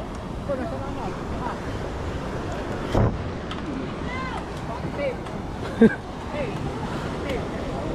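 Steady roaring typhoon wind buffeting the microphone, a continuous loud rush with a couple of sharp gusty knocks and faint voices underneath.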